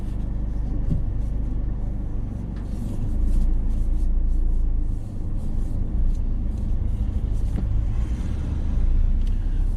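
A learner's car pulls away during a UK driving test, its engine rumbling steadily from inside the cabin, swelling slightly as it moves off.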